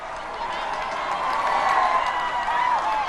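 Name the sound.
crowd cheering as the royal baby is presented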